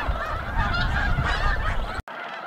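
Geese at Bosque del Apache wildlife refuge keep up a dense, continuous honking chatter from a large flock, loud and close, with many overlapping calls before a brief break near the end.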